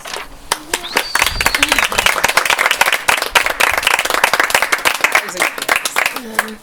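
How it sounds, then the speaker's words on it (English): Rising applause with dense, close clapping from a small audience after a song ends and a curtain closes, building and holding, with voices calling out over it. "the curtain closes to rising applause"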